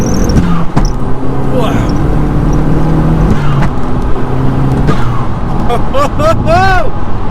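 A home-built Audi A3 1.8T pulls hard in first gear, with a loud engine note that rises and falls close by from inside the car, voices calling out over it, and brief chirping squeals near the end.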